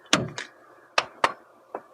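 Dented door of a Renault Megane opening, heard as a few short, close clicks and thunks spaced out over a couple of seconds, one with a brief scraping catch, with no voices.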